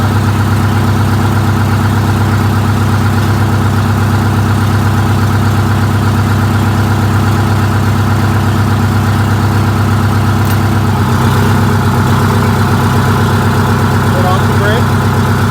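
A vehicle engine runs steadily in drive with its wheels spinning, a loud, constant droning hum with strong low tones. Partway through the sound shifts slightly, and a voice speaks briefly over it.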